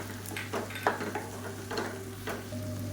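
Gentle sizzling from a pan of spices, chili powder and cumin, sautéing for tomato chutney, with occasional stirring scrapes and a steady low hum running underneath throughout.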